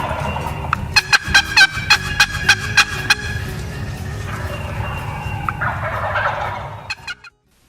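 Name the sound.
wild turkey gobbling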